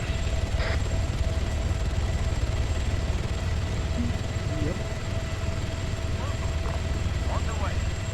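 An Orca helicopter in the military game Arma 3 flies and comes in to land, its rotor and engine a steady, loud drone that fills the whole stretch while voices talk over it.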